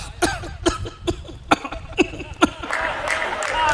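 A man coughs in a steady, evenly spaced rhythm to imitate a phone dial tone, about eight close, loud coughs in a row, before applause and crowd noise rise at the end of a humorous poetry performance.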